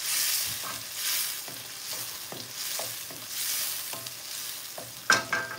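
Food sizzles and crackles in a hot pan, with a steady frying hiss broken by repeated scraping stirs and a sharper clatter near the end.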